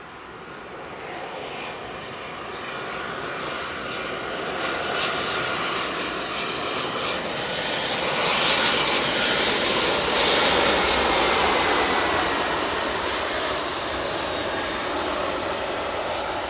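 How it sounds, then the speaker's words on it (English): A freighter aircraft approaches East Midlands Airport at night, its engine roar swelling steadily from a distant rumble to a loud, broad drone that peaks midway and lingers, with no talk. "Approaching aircraft."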